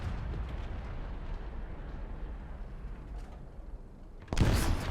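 A distant tank cannon shot in a tank video game, loud and abrupt near the end after a long stretch of steady rumbling engine noise, with its boom ringing out briefly.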